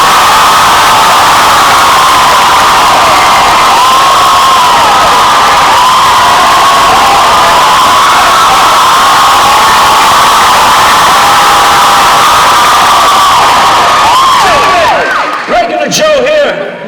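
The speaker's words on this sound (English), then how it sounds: "okay, applaud me in" A college audience at Cornell University cheers, whoops and applauds loudly and steadily, a dense crowd roar with shouting voices that carries on for most of the stretch before tapering off near the end.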